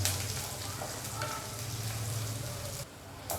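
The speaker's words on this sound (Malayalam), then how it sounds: "2 പച്ചമുളക് നടുവേ കീറിയത്, കുറച്ച് കറിവേപ്പില, നല്ലോണം ഒരു ലൈറ്റ് ബ്രൗൺ കളർ ആവുന്നതിന് ചൂടാക്കാം." Shallots, slit green chillies and curry leaves sizzle and fry steadily in hot oil for a Kerala moru curry tempering, a continuous close crackle with a brief quieter dip near the end.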